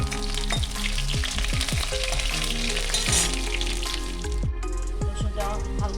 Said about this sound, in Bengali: রসুনটা হালকা ভাজা হয়ে গেছে।